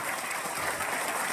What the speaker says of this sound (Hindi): मैं चाहता हूं अब तक प्रोग्राम में सबसे जोरदार तालियां अगर किसी के लिए बजनी चाहिए तो आप सबके लिए बजनी चाहिए एक बार।